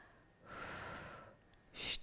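Deep inhale and exhale during a physiotherapy breathing exercise for multiple sclerosis, one long soft breath followed by a brief stronger puff, close and quiet.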